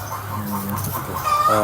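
Laying hens at a poultry farm in Denai Kuala, Deli Serdang, cluck and chatter steadily close by, a dense flock noise with a rising tonal call toward the end.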